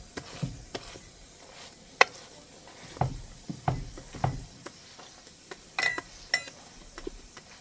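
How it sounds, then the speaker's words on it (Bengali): Korean hotteok pancakes fry in a pan with a soft, steady sizzle. Sharp utensil clinks and taps against the pan cut through it every so often. "এইবার ভাজা করে নেন লাল লাল করে"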